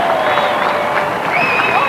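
A packed arena crowd at the 1991 Swimming World Championships roars steadily throughout, a continuous dense wash of cheering and shouting with no break, fairly loud and close.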